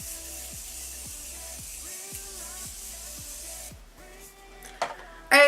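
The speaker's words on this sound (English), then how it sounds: "I'm going to take my Morphe Continuous Setting Spray" A continuous fine mist of Morphe Continuous Setting Spray hisses onto a face for a few seconds, then stops, over soft background music.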